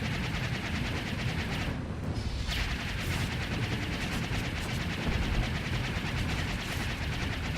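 Missiles fire continuously at shield generators in Star Wars: The Old Republic, a steady, dense roar of rapid gunfire-like bursts that holds at an even loudness throughout.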